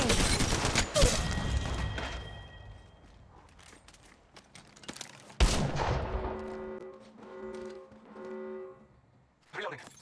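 Gunfire in the mobile battle royale game Apex Legends Mobile rings out in sharp, loud bursts, with a quieter stretch between them and ringing tonal game effects following the later volley.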